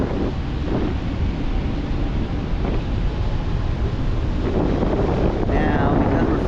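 Headwind rushing past a paraglider over Torrey Pines Gliderport, a loud continuous buffeting roar of wind across the microphone, broad and unbroken.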